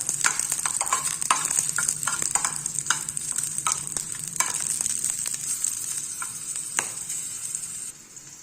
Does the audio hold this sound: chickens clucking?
no